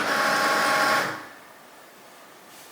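A Cricut cutting machine runs with a loud mechanical whir for about a second before winding down, followed by a quiet stretch and a small click at the end.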